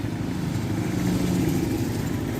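A motorcycle engine drones close and fairly loud, a steady mid-pitched roar that holds throughout without any clear build or fade.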